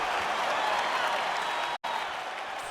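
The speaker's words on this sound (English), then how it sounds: "you hear the crowd react every time they come together" A crowd roaring and applauding at a UFC fight, a dense sustained wash of cheering from a large audience with a brief cut of silence partway through.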